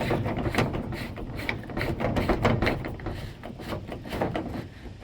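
Rapid ratcheting clicks and mechanical rattles as the clamp of a rooftop cargo box on a 4Runner is tightened, close and moderately loud in quick irregular bursts.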